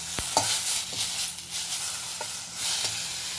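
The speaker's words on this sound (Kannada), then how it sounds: "ಪುದೀನ ಸೊಪ್ಪು ಹಾಕ್ತೀನಿ ಒಂದು ಸ್ವಲ್ಪ ಬಾಡಿಸ್ತೀನಿ" Mint leaves sauté in a hot pan for a white jowar and urad dal dosa batter, with a steady close sizzle broken by several sharp spoon scrapes and taps against the pan.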